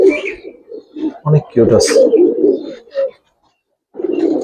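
A khaki pair of pigeons, a hen among them, coo softly and intermittently at a pigeon farm stall, the low murmurs sitting beneath close, continuous talk from people nearby.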